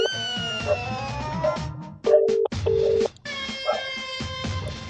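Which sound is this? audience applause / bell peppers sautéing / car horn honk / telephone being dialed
telephone being dialed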